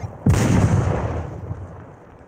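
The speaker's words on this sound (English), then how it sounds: "He threw a grenade, but it's in the corner." A grenade explodes in the Onward VR shooter game, one sudden loud boom that rolls off into a fading rumble over about two seconds.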